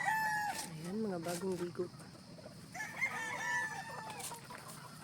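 Gamefowl broodcocks, a Boston and a white, tethered in a farm range area, crowing loudly and nearby with long drawn-out calls, while a person speaks briefly between the crows.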